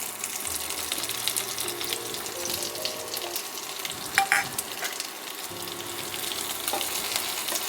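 Coarsely chopped onions and garlic fry in a pan with a steady near sizzle, broken by a few stirring clinks and scrapes.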